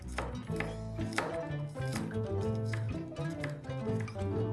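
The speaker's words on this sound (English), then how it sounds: "I'm also going to slice some cloves of garlic" Knife slicing garlic cloves on a board, a steady run of quick cuts up close, with a musical backing underneath.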